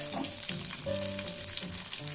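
Chopped onions frying in hot oil in a pan, a steady close sizzle and crackle that runs throughout with no talking.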